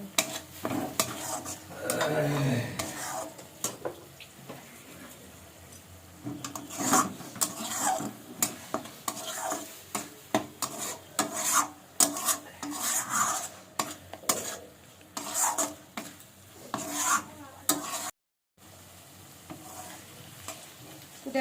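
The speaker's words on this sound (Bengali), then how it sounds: "আর পরিমাণ মতো নুন দিয়ে আমি ভালো করে নেড়ে নেবো" A spoon scrapes and stirs spices, turmeric and salt in a hot pan, steady rhythmic scraping over a sizzle, close and continuous with one brief dropout near the end.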